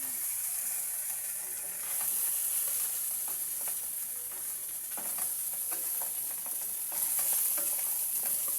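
Food grills in a dry pan with no oil, giving a soft, steady sizzle with scattered small pops and crackles throughout, fairly quiet and without talk.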